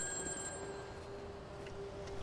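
A public payphone rings in GTA V, a steady bell-like trill running the whole time at moderate loudness over faint background ambience, with no talking.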